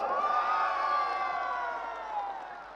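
One section of a big crowd at a corporate global event cheers and whoops in a long sustained roar with faint applause underneath, echoing through the hall and easing slightly near the end.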